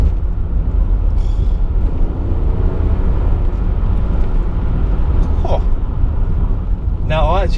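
A V6 Vauxhall Omega accelerating hard on the road to pass a highways van, a loud sustained engine and road roar heard from inside the cabin, with brief chirps of voice near the end.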